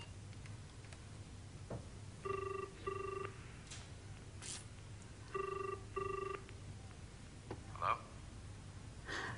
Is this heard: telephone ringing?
yes